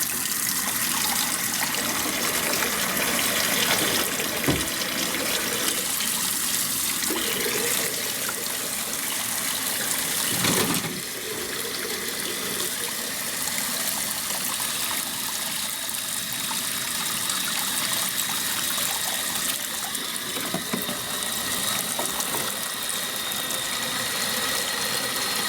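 Running water pours steadily from a tap into a basin for a long stretch, a constant rushing hiss with a faint low hum underneath.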